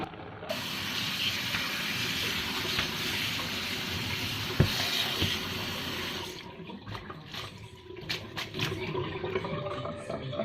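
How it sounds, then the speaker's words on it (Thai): Water being poured out of a cooking pot and rinsed at a sink or tap, a steady rushing stream that runs loud and continuous for about six seconds, then breaks into lighter splashes and trickles. "เดี๋ยวป้าจะไปเทน้ำออกแล้วล้างให้สะอาด"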